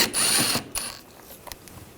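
A ratchet with a T25 socket loosens a screw on a 2009–2017 Volkswagen Tiguan, producing a close burst of rapid clicking followed by a few short, fainter clicks.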